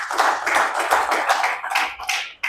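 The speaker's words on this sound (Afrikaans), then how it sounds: "Kom ons gee hom 'n hande klap." A church congregation applauds together at an evening service, a dense burst of hand claps filling the space for a couple of seconds before trailing off, with no talk over it.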